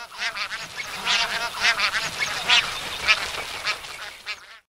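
Bar-headed geese call in a noisy, overlapping chorus of nasal honks, loud and close, with repeated bursts throughout.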